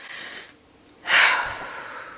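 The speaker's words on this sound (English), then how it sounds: "breathing through your nose and out through your mouth" Deep breaths drawn in through the nose and let out through the mouth as a calming exercise, heard close and alone: a soft exhale, a short quiet pause, then a louder, rushing breath that slowly fades.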